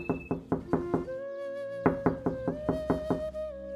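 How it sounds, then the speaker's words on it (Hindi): Knocking on a door on a cold, windy night in a Hindi cartoon story, heard as a series of sharp, evenly spaced knocks, with a musical tone sustained underneath. "तभी कुछ समय बाद दरवाजे पर खटखटाने की आवाज आती है।"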